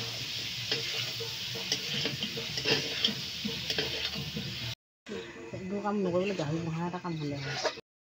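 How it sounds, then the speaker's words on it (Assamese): Meat sizzles steadily with turmeric in a hot pan at close range; after a brief pause, a voice talks over the continuing frying. "হালধি দি এতিয়া আকৌ ভাজিব"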